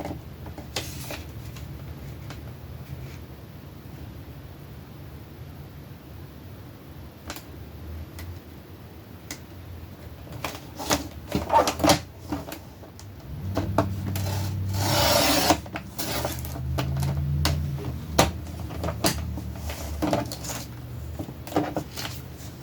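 A crafting piece is cut to size for covering a box top, starting with scattered light taps and handling noises, then a louder rasping cut midway and a steady grinding stretch near the end, close by.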